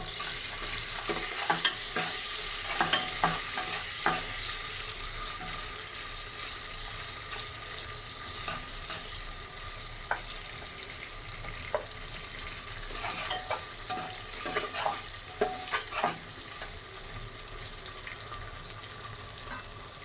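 Onions frying in a pan while chicken gizzard and liver curry is being cooked make a soft, continuous sizzle, with a utensil stirring and scraping in irregular clusters of clicks nearby, and there is no speech.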